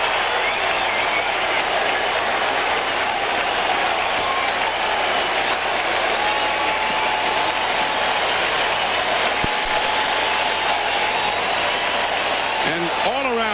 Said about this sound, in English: all around Shea, people are standing and applauding